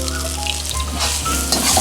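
Karimeen fish frying in hot oil in a Kerala hotel kitchen, giving a steady, close crackling sizzle with bubbling spatters that swell louder near the end.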